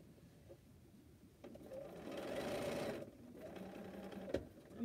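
A sewing machine stitches a quilt block onto a row of blocks, running steadily for about a second and a half after a short lead-in, then easing off. The hum is soft and fairly distant.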